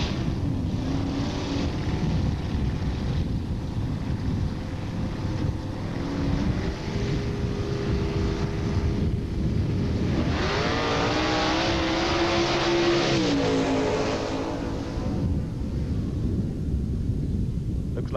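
Drag racing cars launch down the strip at Edinburg International Dragway in 1986, with a spectator Camaro in the field. Loud, sustained engine roar fills the whole stretch, swelling with rising revs midway.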